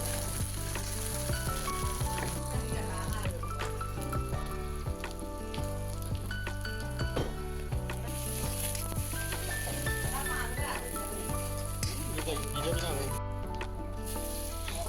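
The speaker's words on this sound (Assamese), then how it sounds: "কেৰাহীত তেল গৰম হোৱাৰ লগে লগে মই আদা নহৰু পিঁয়াজ তেজপাত নৰসিংহ পাত দি মেলি ধুনীয়াকৈ ভাজি লৈছোঁ।" Onion, ginger, garlic, bay leaf and curry leaves sizzle and fry in hot oil in a wok, a steady crackling hiss beneath continuous background music.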